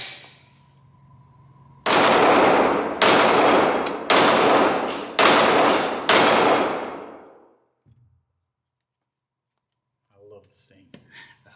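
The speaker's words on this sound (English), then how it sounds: "Let's do some shooting." A Glock 48 MOS pistol fires five loud, sharp shots at a steady pace, each with a ringing decay, then the sound falls silent and faint movement follows.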